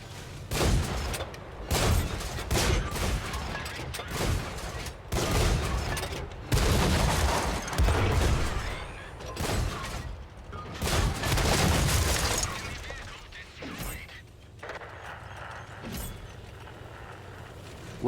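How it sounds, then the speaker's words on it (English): Tank cannon fire and battle noise in World of Tanks, from a Tier 5 British premium Churchill heavy tank: repeated loud booming shots and blasts over a constant rumble, close and dense for most of the stretch, easing toward the end. "And we just started shooting."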